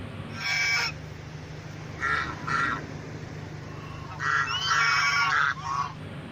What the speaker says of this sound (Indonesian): ini ada angsa teman-teman